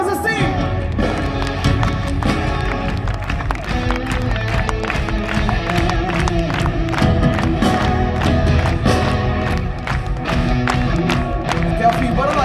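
Concert crowd clapping along in rhythm at a live show in Tavira, regular sharp claps carrying over loud band music throughout, a dense sustained mix.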